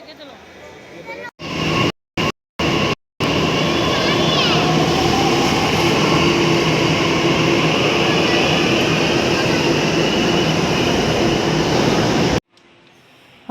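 Loud, steady rumble and whine of a crowded Delhi Metro train in motion, broken by a few brief cuts near the start, then quiet at the end.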